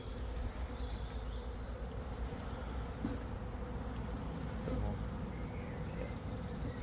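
A honey bee swarm that has moved into stored hive boxes holding some leftover honey, giving a steady, dense insect drone that holds at an even level throughout with no talking.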